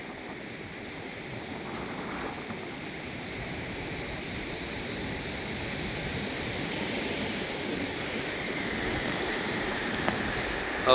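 Sea waves pound the rocky shore of the Konkan coast in the rain, a steady broad roar of surf and spray that builds slightly, heard from nearby with no voices.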